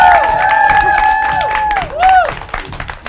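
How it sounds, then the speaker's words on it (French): An audience applauds the Sirius dance troupe with scattered clapping and cheers, partly under a host's voice, and a sliding whistle-like tone rises and falls over it. "Veuillez les applaudir encore une fois."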